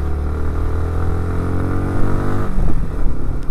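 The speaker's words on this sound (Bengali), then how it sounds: "এত ছোট সিসির বাইক এত উপরে উঠতেছে" A small-displacement motorcycle engine labors up a snowy Swiss mountain road, a steady close drone of harmonics that shifts and roughens partway through as the gear drops and revs surge.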